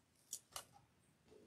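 Scissors snipping ribbon while making a black and gold Christmas wreath, two crisp close cuts in quick succession followed by a faint rustle, quiet and without speech.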